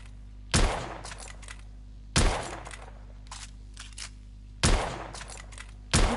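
Gunshots in The Order 1886 crack out loud and sharp, four heavy reports spaced evenly about every two seconds, each followed by fainter echoing pops and a steady low hum underneath.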